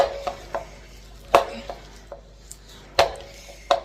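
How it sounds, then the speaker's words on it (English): A utensil works through a milk mixture in a bowl while a giant fataya is being cooked, giving a close series of irregular clinks and taps, some sharp and loud, over a quiet background. "So I'll keep on mixing like this until it's mixed thoroughly"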